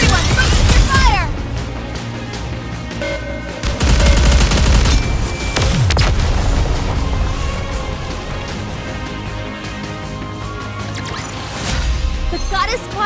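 Squad gunfire in the mobile shooter Goddess of Victory: Nikke, loud sustained automatic bursts and crashing impacts that run nearly continuously, with brief swells and a sweeping effect midway.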